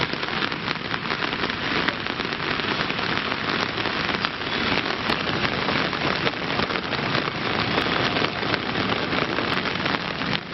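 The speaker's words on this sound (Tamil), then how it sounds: "இரவில் இடி மின்னலுடன் கூடிய கனமழை பெய்தது" Heavy night rain in Tamil Nadu pouring steadily, a dense loud hiss of drops hammering surfaces for the whole stretch, with no distinct thunder claps standing out and no voices.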